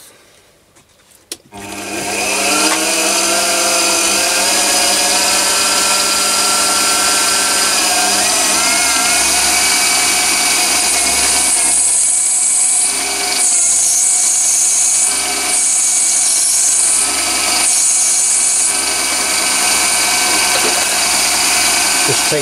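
A Chinese mini lathe parting off a metal workpiece to length after hand tapping, a steady loud grinding and rasping cut that runs continuously from the start, with the motor drone underneath.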